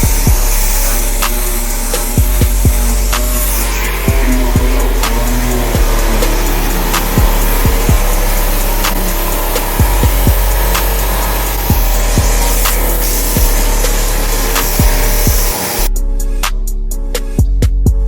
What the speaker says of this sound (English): Guys, he's sanding that bumper right there.